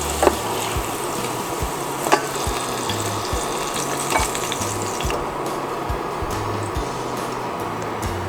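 Garlic fries golden brown in a pan with a steady, close sizzle and crackle, broken by a few soft knocks from stirring. No voices.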